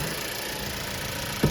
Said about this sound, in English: And here is the 2-litre engine. 4-cylinder, naturally aspirated.